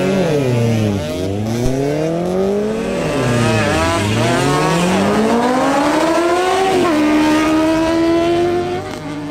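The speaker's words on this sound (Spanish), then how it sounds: "Los próximos en clasificar son Brandon Rivera en su Suzuki AX100 y Javier Lascano en su Honda CB650R." Motorcycles at a quarter-mile drag race, including a Suzuki AX100 and a Honda CB650R, roar loudly and continuously, engines revving up in rising sweeps that drop sharply at each gear change.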